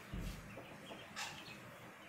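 A six-month-old rooster with a leg injury gives a few short, soft clucks nearby, alone and without talk.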